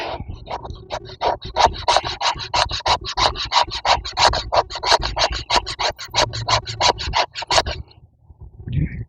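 A bushcraft knife shaves curls off wood in a quick run of rhythmic scraping strokes, about two or three per second, close and crisp, ending in a brief pause.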